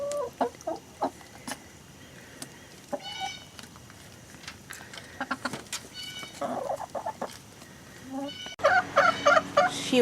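Backyard chickens cluck and chatter while pecking at a melon treat, soft scattered calls that grow louder and busier near the end, with occasional faint background noise.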